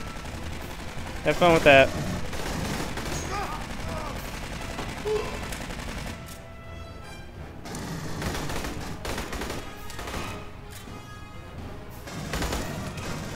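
Gunfire in the Aliens Colonial Marines video game, aimed at a turret: rapid automatic shots and bursts rattle close against game ambience, while someone speaks briefly over the shooting.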